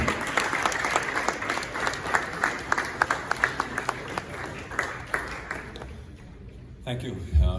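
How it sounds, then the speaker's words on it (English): Crowd applause greets the Czech President Pavel as he walks to the podium at a Czech-Ghana business event, a steady wash of clapping with sharper individual claps that fades out near the end before a few close sounds. "Please, a round of applause for him as he takes the podium."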